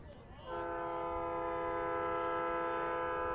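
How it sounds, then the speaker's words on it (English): A train horn blows near a baseball field during a college tournament game, one long sustained multi-tone blast that starts abruptly and holds steadily, moderately distant, over ambient crowd noise. "As the train whistle sounds."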